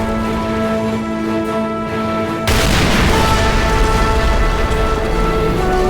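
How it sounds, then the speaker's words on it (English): Backfield artillery support in a toy war battle sets in abruptly halfway through as a loud, dense, continuous roar of fire that swamps the steady background music and holds to the end. "there's the backfield artillery support"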